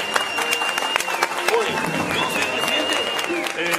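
Studio audience applause on a Spanish-language TV show, a dense crowd clapping throughout, overlapped by loud talking and a few voices calling out.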